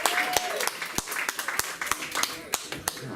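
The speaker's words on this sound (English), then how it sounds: "Keep the applause going." An audience applauds a comedian at a live comedy show, with scattered, distinct claps rather than a dense roar, moderately close and tapering unevenly with short gaps.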